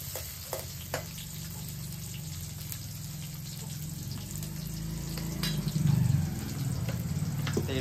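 Sun-dried fish fried village-style in oil in a home kitchen, a steady close sizzle and crackle throughout, growing slightly louder and busier near the end, with occasional soft stirring clinks and no talking.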